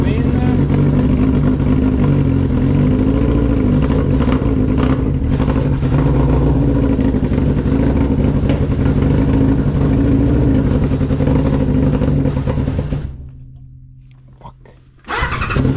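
A Yamaha RX1, parked for months and running rough after a cold start, gives a loud, close, continuous engine drone that dies away near the end before briefly picking up again.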